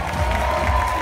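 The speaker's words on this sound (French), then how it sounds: "Give me a standing ovation." An audience at a hair show on stage in Paris bursts into applause and cheering for a stylist, a dense wash of clapping and crowd noise heard briefly.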